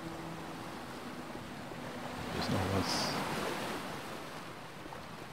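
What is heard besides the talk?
surf waves rushing on the shore in a video game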